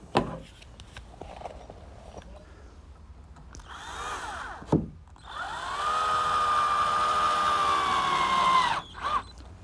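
A power drill drives screws into playhouse trim at a 3x3 corner board under the rake board: a short whirring burst, then a longer, steady high whine that stops abruptly, close and loud.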